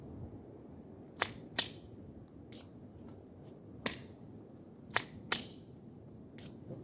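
Glock 43 pistol fitted with a Holosun 507K ACSS red dot sight firing six separate sharp shots at uneven intervals, crisp and distant-sounding cracks over quiet outdoor ambience, with no talking.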